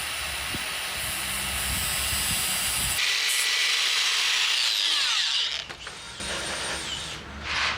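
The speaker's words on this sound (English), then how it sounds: "I like to use my grinder to get that nice round curve rather than a coping saw" A handheld power grinder runs continuously as it shapes a rounded curve into a piece of small quarter-round stair trim, a steady high whine whose pitch shifts midway as the cut changes, then briefly dips near the end.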